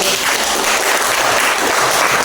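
Students in a school classroom clap steadily and fairly loudly throughout, a dense patter of many hands with no pause.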